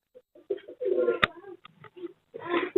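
A pair of white pouter pigeons at a Sunday bird market in Chichawatni coos in short, low, throaty bursts close by, with a sharp click partway through.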